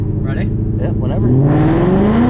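Ford Mustang with a Coyote engine, 10-speed and E85 fuel launches hard, engine note climbing steeply as it pulls away, loud and close, with voices briefly at the start.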